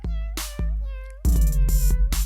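A cat's meow is sampled into a music beat, repeating over a bouncy rhythm with punchy low drums, the meows standing out loud and close.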